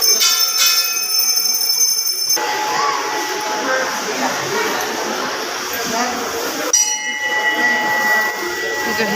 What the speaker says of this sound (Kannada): ಗಂಟೆಗಳು ನೋಡಿ.